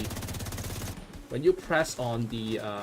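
Rapid, evenly spaced automatic rifle fire in The Division 2, a steady stream of shots lasting about a second before stopping, followed by a voice talking.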